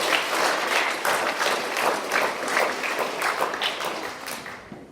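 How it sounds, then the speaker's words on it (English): Applause for students at a school presentation day, an audience clapping in a steady, moderately loud patter for several seconds, gradually thinning out toward the end. "If we could please applaud these students,"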